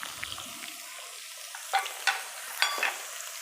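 Curry leaves and green chillies hit hot oil in a pan for a ridge gourd chutney, giving a soft sizzle with a few sharp crackling spits and stirring clinks, close and fairly quiet.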